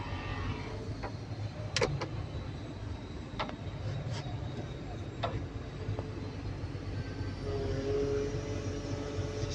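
A Cat 320DL excavator with low power and overload raises its boom, giving a steady diesel engine and hydraulic drone with occasional clicks and squeaks, rising slightly toward the end.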